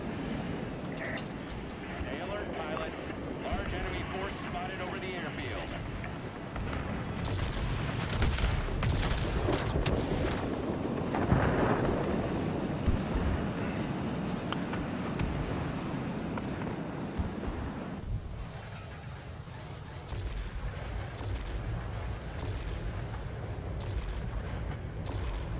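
Bombs dropped from a Tier X multi-role I 215 plane in World of Warplanes, bursting in a low rumbling barrage of booms under steady engine drone, with someone speaking over the action.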